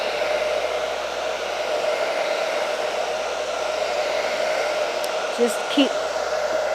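A heat blower runs on high to dry acrylic paint, making a loud, steady whooshing hum close by, with a brief murmur of speech near the end.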